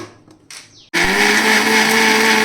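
A mixer grinder blending lassi with ice cubes and water, quiet handling sounds and then an abrupt start into a loud, steady, high-pitched whirring roar that runs to the end.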